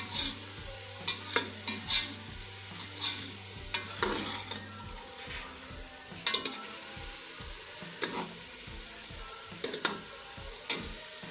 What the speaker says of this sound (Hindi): अब हम इसके अंदर पहले बेल तोरी को फ्राई करेंगे।